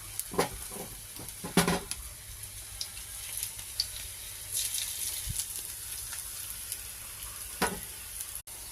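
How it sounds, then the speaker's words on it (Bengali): Lentil fritters (vadas) dropped one by one into hot oil give a close, crackling sizzle, with bursts of louder spattering as each piece goes in and a steady frying hiss between. "তেল গরম হয়ে গেছে, এবার বড়াগুলো এক এক করে ছাড়বো।"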